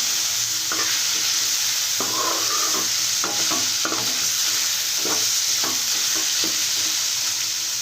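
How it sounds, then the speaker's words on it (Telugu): Radish fries in a pan while being stirred, a constant bright sizzle with irregular scraping and clattering strokes of the spatula over it, close and steady throughout. "చూడండి, ఈ విధంగా వేగితే చాలు."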